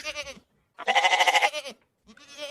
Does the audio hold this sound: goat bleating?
yes